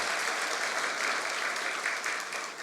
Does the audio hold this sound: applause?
yes